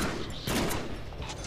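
Gunfire rattles in the Deadpool video game as a dense, loud burst of rapid shots that fills the short moment with no talking.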